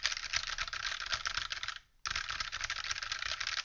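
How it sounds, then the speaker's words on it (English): Fingers type rapidly on a computer keyboard with a dense, continuous clatter of close keystrokes, broken by one brief pause just before the typing resumes. "So when I type on a keyboard like this"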